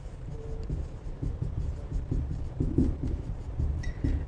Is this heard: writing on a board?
yes